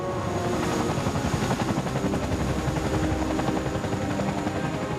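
A helicopter's rotor thrashes in a steady, loud, continuous chop with dense engine whine beneath it, filling the whole stretch with no voices.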